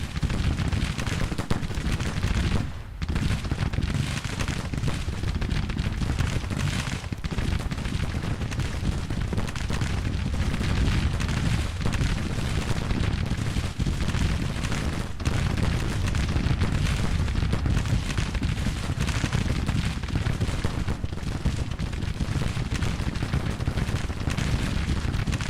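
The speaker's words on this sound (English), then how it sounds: "Lot of gunfire going on there." Continuous gunfire and artillery from a Civil War battle at Murfreesboro in the strategy game Grand Tactician: The Civil War, a dense, unbroken rattle of musketry with heavy booms rolling underneath, loud and sustained throughout.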